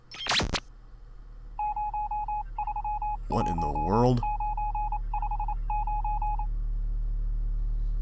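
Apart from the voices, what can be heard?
phone message tones in the Nancy Drew video game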